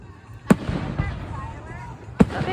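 Fireworks at a 4th of July show in Harrison, Idaho: two sharp booming bursts about two seconds apart, with crowd chatter and voices in between.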